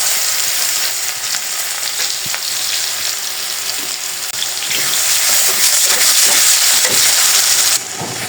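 Fish frying in hot oil in a home kitchen pan, a loud, dense, continuous sizzle with faint stirring clatter, close by and uninterrupted throughout.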